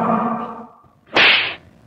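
A sharp whip crack sound effect snaps once, loud and close, after a fading low whoosh.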